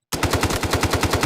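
An AKM rifle in the Delta Force Mobile video game fires a loud, rapid automatic burst of about a dozen evenly spaced shots, starting abruptly from silence with no talk over it.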